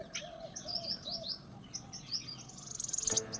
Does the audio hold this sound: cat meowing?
no